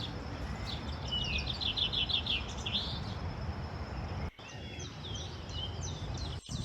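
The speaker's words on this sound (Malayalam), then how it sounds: "പലതരത്തിലുള്ള കിളികൾ വരും കേട്ടോ." Birds chirping in a vegetable garden, quick bright twittering runs in the first few seconds and scattered calls later, heard over a steady outdoor background hum.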